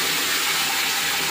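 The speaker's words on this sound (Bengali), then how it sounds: "এখন দিয়ে দিচ্ছি গরম জল" Hot water poured into a cooking pot of fried green chillies and spices makes a steady rushing pour, loud and close for a brief moment, with no talk.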